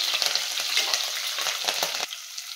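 Garlic and curry leaves sizzle steadily in hot oil in a pan, a dense continuous crackle with occasional stirring scrapes, close and without talk until a brief drop near the end.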